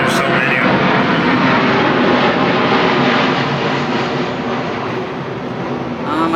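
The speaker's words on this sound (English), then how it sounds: "There's a plane. Sorry about that." Airplane passing overhead, a broad steady roar that fills the whole clip and eases slightly toward the end, heard outdoors.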